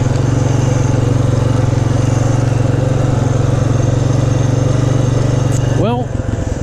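A 2006 Honda FourTrax 400 ATV with electric shift idles loud and steady, a low throbbing engine drone running alone, then briefly changing pitch near the end.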